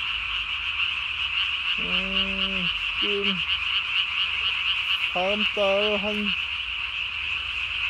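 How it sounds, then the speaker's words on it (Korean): Loud tree frog croaks at night come in short bursts, a few isolated calls then a cluster, over a constant high insect-like chorus; faint speech briefly. "개구리 소리를 시골에 논에 물댄 데를 지나다니다 보면 많이 들을 수 있습니다"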